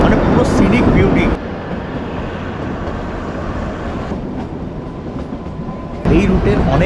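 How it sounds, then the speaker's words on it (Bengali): Kalka–Shimla toy train running on its mountain route, a loud continuous rumble of wheels and carriages, easing slightly in the middle before swelling again. "এই টয় ট্রেন ম্যাক্সিমাম 25 কিলোমিটার/আওয়ার ঘন্টায় চলে"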